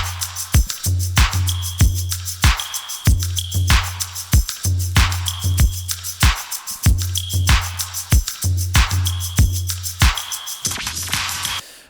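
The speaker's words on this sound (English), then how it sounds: "So everything together in the drum section sounds like this." A full electronic drum section loops a groove of deep kick thumps, sharp snare hits, steady shaker and tambourine jingles, punchy and up close, repeating in even bars with no voices.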